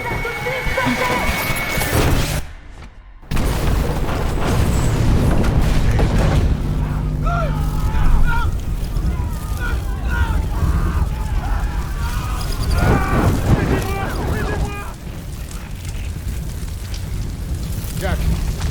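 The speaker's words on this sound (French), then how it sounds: "Est-ce que c'était celle-là? La bombe qu'il a fabriquée?" A bomb explosion in an action film scene gives a heavy crashing boom with rumbling debris and chaotic follow-up noise, loud and close, mixed with music and dialogue spoken in French.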